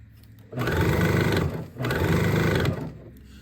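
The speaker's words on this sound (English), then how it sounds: "Let's go to the sewing machine." A sewing machine stitches fabric in two bursts of rapid, even stitching, about a second each, separated by a brief pause, close and fairly loud.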